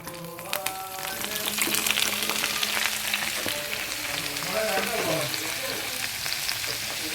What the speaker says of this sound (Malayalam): വെളിച്ചെണ്ണ ഒഴിക്കുക എന്നിട്ട് നമ്മൾ അരിഞ്ഞു വെച്ചേക്കുന്ന ഈ പച്ചമുളകും സവാളയും കൂടി